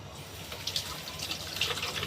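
Tap water runs steadily into a sink while something is rinsed and washed by hand, a close, even splashing flow with small bursts of spatter.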